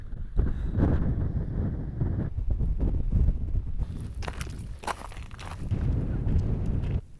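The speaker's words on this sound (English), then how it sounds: "And as I say that, it starts to become windy again." Gusty wind buffets the microphone high in the Lake District hills near Scafell and Wasdale, a loud rumbling roar that surges and eases over several seconds with faint rustling underneath.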